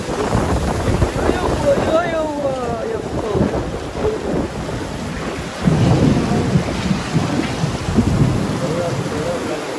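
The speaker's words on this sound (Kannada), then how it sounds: "ಈಗ ಮಳೆ ಬರ್ಲತ್ತದ ನೋಡ್ರಿ." Heavy rain pours steadily outdoors during a housewarming ceremony, with rumbling thunder rolling through, loud and close, with faint voices underneath and wind buffeting the microphone.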